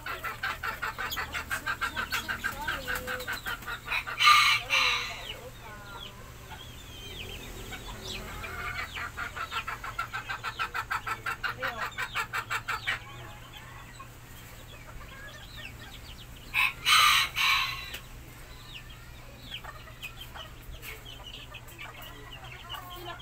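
Backyard chickens cluck and call busily while being fed, with a couple of louder, sharper squawking bursts standing out near the microphone; no talking.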